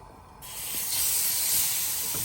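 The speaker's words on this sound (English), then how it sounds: "You'll hear the sizzle. That's exactly what you want to hear." A steak hits a hot pan and breaks into a loud, close, continuous hissing sizzle that starts suddenly and holds steady, with no voices over it.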